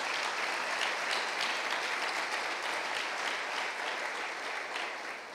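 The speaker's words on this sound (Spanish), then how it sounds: "Damos fuertes ofrendas de palmas a nuestro Dios" A church congregation claps together in sustained, dense applause that stays loud and steady throughout, with no voices standing out above it.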